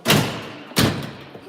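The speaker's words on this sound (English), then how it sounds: "Close this door, watch your heads." Two heavy thuds from a door slamming shut inside a fire department vehicle, close and loud, about three-quarters of a second apart, each ringing briefly before fading.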